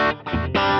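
Electric guitar played through an Airstep TX pedal with a delay effect, loud chords cutting in and out in short bursts with echoing repeats filling the gaps, and no voices.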